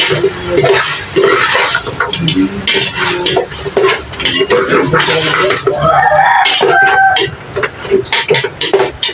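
Arroz caldo being stirred in a metal pot, loud close scraping and clinking of a spoon against the pot in repeated strokes, with bubbling and a voice speaking in between.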